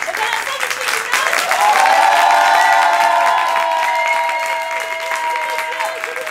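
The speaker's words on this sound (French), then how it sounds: "si vous étiez un public qui applaudirait à peu près à ce niveau-là, ça applaudirait comment?" Audience at an improv show in Paris breaking into applause, a dense burst of clapping with some cheers that peaks early, then holds and slowly thins out over several seconds.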